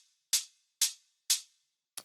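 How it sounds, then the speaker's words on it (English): A brighter, high-end hi-hat sample panned to the left in a dubs and edits production plays three quiet evenly spaced hits with shimmering short tails, then a clipped fourth hit at the end. "Bit more kind of a high-end hat."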